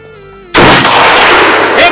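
A Mini Draco AK47 pistol fires once at target practice: a sudden, very loud crack followed by a long, noisy, rumbling tail.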